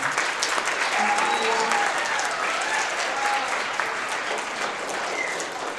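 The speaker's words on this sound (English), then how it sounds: "If we could get a round of applause from the room." Applause from a room audience at a youth entrepreneur fair presentation, a dense sustained clapping that holds steady and eases slightly near the end, with a few faint voices underneath.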